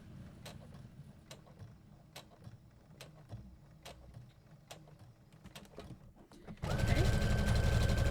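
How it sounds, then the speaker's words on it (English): A sewing machine back stitches over a tote bag handle. Quiet, regular mechanical ticks and soft handling come first, with a brief spoken word, then the motor suddenly kicks in loud and close for a steady run at the end. "We're going to back stitch all the way back to that side seam."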